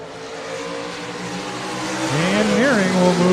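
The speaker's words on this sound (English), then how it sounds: "Nearing with the advantage in the 20N car as they'll come into turns 3 and 4 for the final time" Stock cars race into turns 3 and 4 at Buena Vista Raceway, engines droning at a distance, then rising louder as one sweeps past with a pitch bend, while an announcer talks over the noise.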